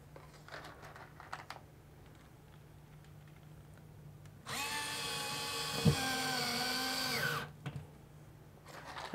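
A small electric driver with torque settings drives wall anchors: a steady whining motor buzz runs for about three seconds, framed by quieter handling clicks before and after.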